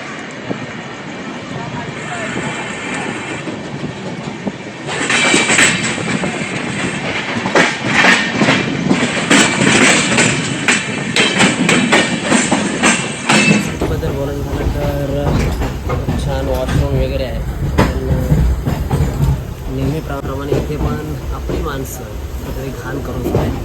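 The Diva–Sawantwadi Express on the Konkan Railway rumbles steadily along the tracks with rhythmic clattering of wheels over rail joints, loud and close, heard from aboard while someone talks throughout.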